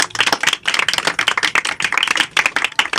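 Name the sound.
audience applause for the Quran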